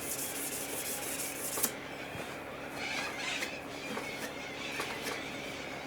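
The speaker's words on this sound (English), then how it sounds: "I'm just going to go over this by hand until I feel it looks pretty good." Steady hand sanding of a custom knife blade after surface grinding, a continuous close scratchy rubbing with a rhythmic back-and-forth texture and no talking.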